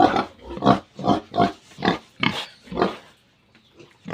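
A black sow, bred about 25 days earlier, grunts close by in a steady series of rough, rhythmic oinks that fade out near the end.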